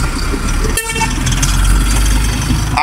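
Truck horn honking, a short loud blast rising over heavy engine rumble close by on a road.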